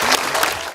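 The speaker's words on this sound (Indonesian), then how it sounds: "Oke, tepuk tangan." A short burst of audience applause at a speech in front of ministers and artists, dense and steady clapping from a crowd that fades out after under a second.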